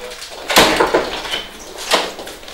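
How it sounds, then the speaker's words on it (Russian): A door is shut on reporters at an education department office in Karaganda, with a sharp close thud followed by a second knock or bang, and faint room noise between them. "Глава ГРАО захлопнул перед журналистами двери."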